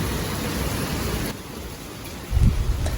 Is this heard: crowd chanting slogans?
no